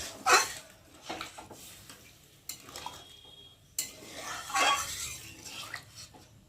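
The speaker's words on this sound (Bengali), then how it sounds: "নেড়ে দেবো" A pot of fish curry with ridge gourd is stirred, a spoon scraping and clinking against metal in a few irregular bursts, fairly close and moderately loud, with no voices.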